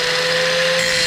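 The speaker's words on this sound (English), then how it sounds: "I'm gonna see how many bolts we can grind down to the head" A cheap Harbor Freight angle grinder grinds down bolts, giving a loud, steady, high-pitched whine with a constant motor tone and harsh grinding hiss throughout, with no pauses.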